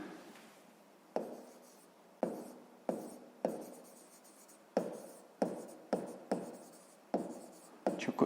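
Pen writing on paper during a sixth-grade geometry exercise, a series of distinct scratchy strokes with sharp onsets and quick decays, close and fairly quiet, with no talk over it.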